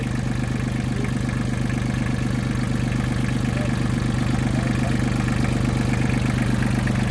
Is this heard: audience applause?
no